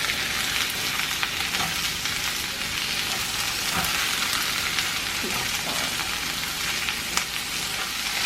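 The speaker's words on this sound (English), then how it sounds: "I'm going to cook those up on a really high heat." Stir-fry ingredients sizzle over really high heat in a continuous loud, dense crackle, with occasional spatters and soft stirring knocks close by and no one talking.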